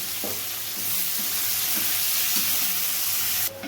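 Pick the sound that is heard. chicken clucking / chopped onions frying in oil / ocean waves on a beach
chopped onions frying in oil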